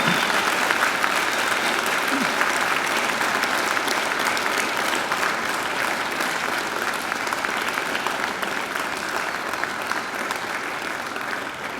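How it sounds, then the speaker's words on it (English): A large graduation audience applauds in a hall, loud and sustained clapping that holds steady throughout, with a faint crowd murmur beneath and no speech over it. "And now I invite you to give them a mighty round of applause."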